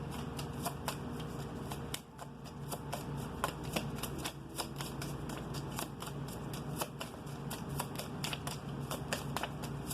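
Tarot cards being shuffled by hand in a steady, close stream of crisp riffling flutters and light snaps that continues throughout with no talk.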